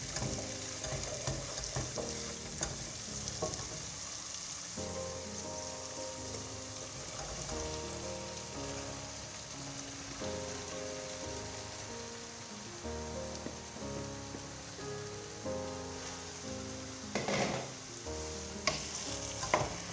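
Zucchini and other vegetables sautéing in a pan, a steady loud sizzle with frequent clatter of stirring throughout, no voices.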